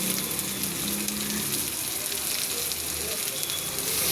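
Chicken hitting spiced masala in a hot pan sets off a loud, dense, continuous sizzle and crackle that fills the whole moment, with a faint voice murmuring underneath.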